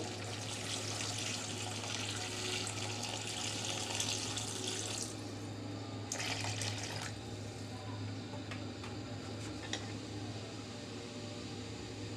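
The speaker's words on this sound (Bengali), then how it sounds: "এবার ঝুলোর জন্য পানিটা দিয়ে দিচ্ছি" Water streams steadily into a pan of broiler chicken curry for gravy, a continuous rushing pour that eases partway through, with a low hum running under it and no voices.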